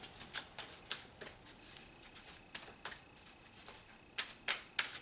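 Tarot cards being shuffled and drawn make quiet, crisp riffling clicks and papery flicks in rapid uneven bursts, close by, with no talking.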